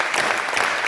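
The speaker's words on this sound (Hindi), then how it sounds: "इन सब कवियों के लिए एक बार जोरदार आप तालियां बजा दें" Applause from the audience at an all-India Hindi poetry gathering, honoring the poets: a brief, dense burst of many hands clapping at moderate level, filling the short moment without distinct voices.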